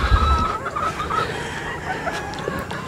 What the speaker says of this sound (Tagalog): Mga hen na rin yan.